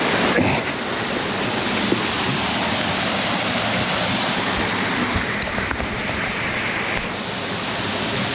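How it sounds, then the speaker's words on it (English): Spencer Brook Falls, a waterfall flowing strongly, gives a loud, steady rushing roar that fills the scene without pause, close by and with no voices. "Spencer Brook Falls."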